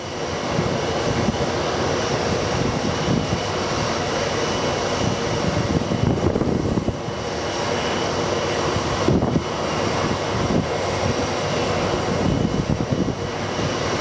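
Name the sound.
wind noise on the microphone outdoors at an airport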